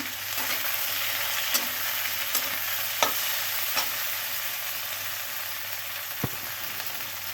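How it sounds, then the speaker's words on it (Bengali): New potatoes and onions frying together in a pan, an even, steady sizzle throughout with a few soft stirring clicks at intervals. "খানিকক্ষণ ভাজার পর তবে আমি পেঁয়াজগুলো দিয়ে ভাজছি।"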